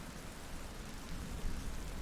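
Rain falls as a soft, continuous, even hiss, faint and steady throughout, with no voices over it.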